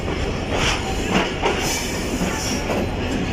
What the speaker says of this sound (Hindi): शाह लतीफ़ एक्सप्रेस इस वक्त अप्रोच कर रही है हैदराबाद जंक्शन रेलवे स्टेशन पर